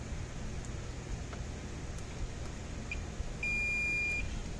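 A steady multimeter continuity beep sounds near the end for about a second while testing diodes in a Gallagher M600 electric fence charger, then stops abruptly, over faint background hiss.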